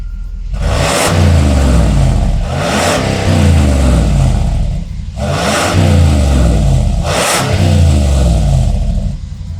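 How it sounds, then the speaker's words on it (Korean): A Dodge Ram 5.7 V8 full-size pickup with variable exhaust revs loudly several times, each rev surging up to a roar then dropping back to a deep rumbling idle, heard up close. "이 차량 가변 배기도 되는 어있 차량입니다. 배기음 한번 들려드리겠습니다."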